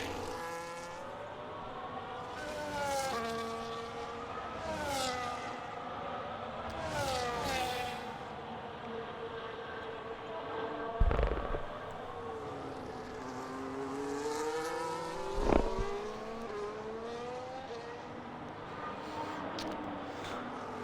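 Onboard engine of a race car in a sim racing game during a lap of the Spain round, a steady high revving drone that climbs and drops through repeated gear changes, with two sharp thuds partway through.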